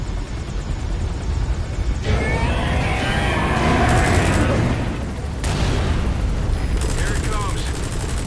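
A helicopter's minigun fires in sustained bursts in Metal Gear Solid V: The Phantom Pain, a loud rattling roar over the rotor drone, stopping and restarting, with voices faintly underneath.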